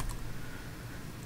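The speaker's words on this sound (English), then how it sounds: "the next thing you're going to do is you're going to type" A computer keyboard is used to type an update-package command in a brief, dense burst of keystrokes that sit under a broad steady noise.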